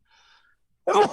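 A single sharp, loud sneeze bursts out near the microphone after a faint, quiet tonal murmur, during a live jazz session conversation.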